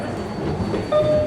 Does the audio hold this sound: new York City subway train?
yes